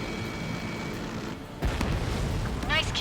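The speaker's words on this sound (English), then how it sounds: "Missile launched." Missile launch and explosion in Ace Combat 7, a steady roaring engine rumble followed by a heavy booming blast, loud and continuous, with game voices in the mix.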